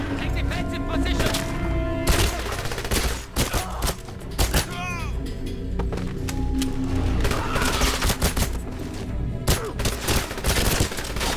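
A chaotic firefight in 007 Legends inside Blofeld's lair, with repeated loud gunshots and bursts of automatic fire scattered throughout, some close and punchy, and voices shouting in between.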